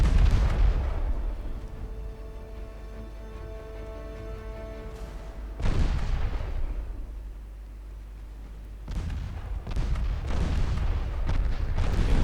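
Heavy naval gunfire in a World War II era ship battle video game: loud booming cannon salvos with long rumbling tails, one big blast midway and another later, under a sustained low roar.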